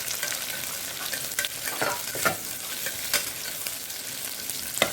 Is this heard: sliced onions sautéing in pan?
yes